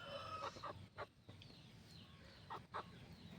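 Hens in a poultry yard where birds are kept for sale cluck repeatedly in short, close bursts, with an occasional rooster-like call over a steady background murmur of the flock.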